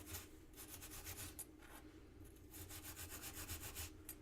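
Brass rubbed clean with steel wool or sandpaper, a steady close-up rasping scrape in repeated strokes with short pauses, alone without talk.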